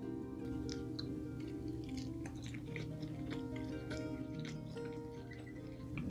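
Close, quiet chewing of grilled Atlantic mackerel with chili sauce, soft wet bites and mastication repeating for several seconds with no talking.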